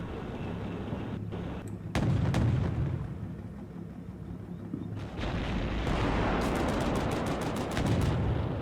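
M60 tanks open fire in the Combat Mission Cold War game, with rapid cannon shots and gunfire cracking over a steady rumbling battle backdrop and one dense rattling burst near the end.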